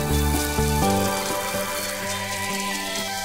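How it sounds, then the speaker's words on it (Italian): Sequins poured in a glittery shower for a DIY Frozen-themed Elsa dollhouse make a soft, continuous rain-like patter, close and steady, over a bright musical backing. "Ed ecco una pioggia di paillette."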